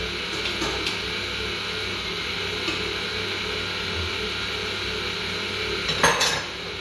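Cake batter for a vanilla-chocolate marble cake is stirred with whole liquid cream in a bowl, a steady close scraping and swishing with occasional utensil clinks against the bowl and a louder knock near the end, without any talk.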